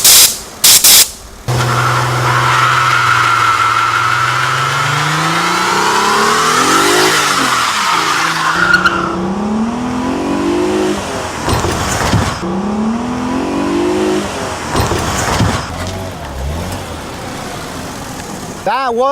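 A car fitted with nitrous races at high speed over an asphalt speed bump, engine revving and climbing in pitch with a loud, close roar, sharp thumps as it hits the bump, then continued acceleration.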